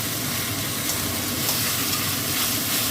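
Coriander powder, cumin powder and turmeric sautéed in a hot pan give a steady, close, dense sizzling hiss that runs without a break.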